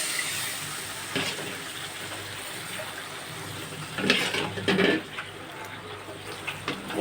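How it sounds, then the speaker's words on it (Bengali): Broth is poured into a pan of fried spice paste for an egg curry, making a brief gushing, splashing pour midway through over a steady kitchen background hum. "এখন পরিমাণ মতো ঝোল দিয়ে দেব।"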